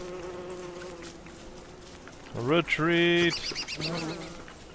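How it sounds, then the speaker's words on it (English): Buzzing from angry bees in the video game Don't Starve, tonal droning under louder in-game honking cries, with a person speaking briefly. "There's more angry bees?"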